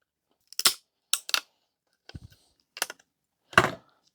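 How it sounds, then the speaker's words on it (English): Wire cutters snip leads off a coil on the power board of a 1991 HP LaserJet 3P printer being scrapped: five or six sharp, close clicks with pauses between them, alone with no talking. "Sometimes these coils are easy if you just snip the wires"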